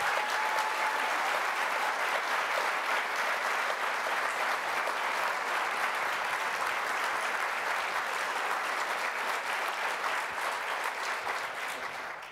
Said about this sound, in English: Can you please give a round of applause for this amazing panel?